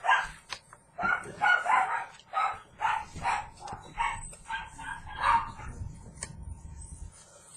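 A pet dog barks indoors in a rapid series of about a dozen sharp, moderately close barks at an uneven rhythm, heard alone without talking.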